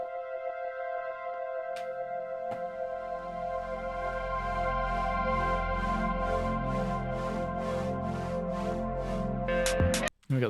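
Layered Prophet synthesizer parts from an album stem blend into a dense, sustained chord, with a few sharp clicks early on and a rhythmic filter pulse swelling in the highs. A brief glitchy burst and a dropout come near the end.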